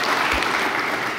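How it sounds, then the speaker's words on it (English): Workshop audience at an AI event in Berlin applauds in a brief, steady wash of clapping that fills the short moment without any voices. "let's make also a big applause for him"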